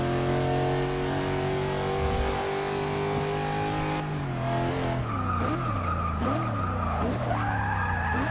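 A race car in Forza Motorsport 6 skids through a drift, sustained tire squeal with wavering pitch over a steady mid-range engine drone, the engine note shifting and revving after the slide begins.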